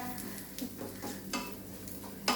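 Onions fry over a low flame in a pan, giving a soft, steady sizzle punctuated by several brief scraping stirs, quiet and close.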